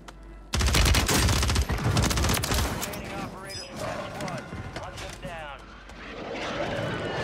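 Rapid gunfire crackles in dense volleys in the Call of Duty Modern Warfare III video game, loud at first and then thinning into scattered shots with a faint whine, while voices talk over the fighting.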